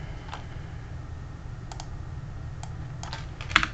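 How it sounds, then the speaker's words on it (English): Typing on a computer keyboard during a live stream, a sparse, fairly quiet run of individual key clicks with gaps between strokes over a low steady background hum, no talking. "I hope I don't get some weird results when I type this up."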